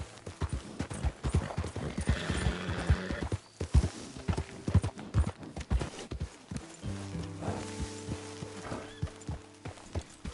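Steady clip-clop of horse hooves with a horse whinnying partway through, set against the Red Dead Redemption 2 game soundtrack with tonal music near the end.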